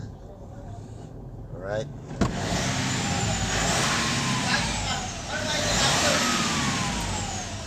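Mitsubishi Montero Sport engine cranks briefly and catches, then settles into a loud, steady idle close by, with someone talking over it.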